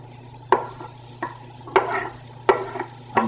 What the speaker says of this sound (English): I'm just gonna saute my garlic until it becomes golden. Also gonna add my onion.